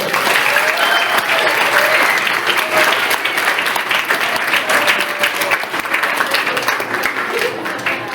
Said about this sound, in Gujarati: બધા જ વિદ્યાર્થીઓ માટે જોરદાર તાળીઓ થઈ જાય